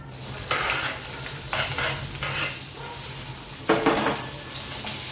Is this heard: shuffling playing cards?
no